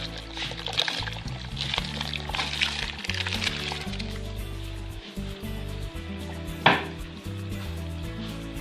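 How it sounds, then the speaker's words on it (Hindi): Rice poured into hot water in a pot for chicken biryani, a close liquid splashing and bubbling with a sharp splash partway through, steady kitchen sounds continuing. "इसमें ऐड करेंगे चावल।"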